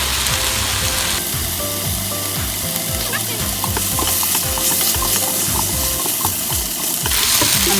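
Squash and other vegetables fry and sizzle loudly in a pan for a vegetable stir-fry, a dense continuous crackle with bubbling liquid beneath and occasional stirring clatter, close and steady without speech.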